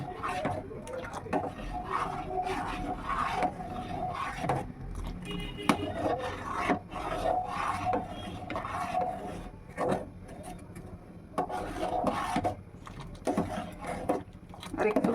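Custard stirred in a pot, with a steady scraping and rubbing of a spoon against the pot bottom continuing throughout, close and moderately loud, under intermittent talking.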